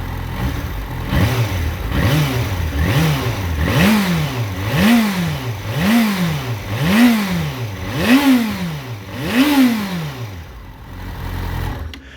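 A 2008 Yamaha FZ6N ABS motorcycle engine with 14,000 km revs repeatedly, about eight rising-and-falling throttle blips in a steady rhythm, loud and close, with no voices.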